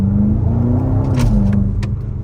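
BMW G99 M5 fitted with downpipes pulling hard on the highway, a rising engine note climbing and dipping with a gear shift, loud and close with a deep rumbling undertone.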